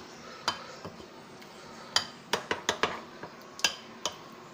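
A spoon clinks against a bowl while suji cake batter with baking powder is stirred, giving a dozen or so sharp, quiet taps at an irregular rhythm over faint background noise.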